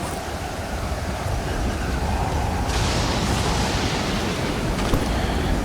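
Wind and waves in the survival game Stranded Deep rush in a constant broad roar, growing a bit brighter and stronger partway through, with no voices.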